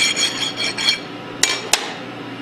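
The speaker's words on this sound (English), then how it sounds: "you'll want to file off any burrs that may be left over on the shaft." A metal file rasping burrs off a pump shaft on a roller-type Hypro pump, several quick scraping strokes followed by two sharp metallic taps, close and fairly loud.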